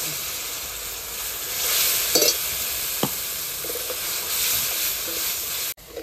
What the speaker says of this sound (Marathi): आपण आता टमाटे प्युरी टाकून घेऊ